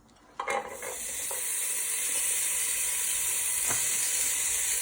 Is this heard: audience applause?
no